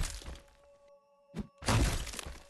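In Friday the 13th, Jason smashes a wooden door, with a short thump and then a heavy crashing, splintering impact that rings out loud and close over a faint tonal hum.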